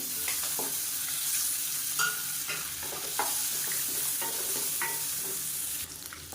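Egg masala roasting in oil in a pan, with steady close sizzling and repeated scraping stirs of a spoon through the thick gravy, continuous throughout with no talking.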